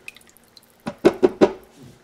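Kidney beans stirred in ham broth in a pot, heard as a few close, wet sloshing and clunking strokes in quick succession after a quiet moment, with no talk.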